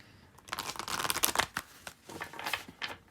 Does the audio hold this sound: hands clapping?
no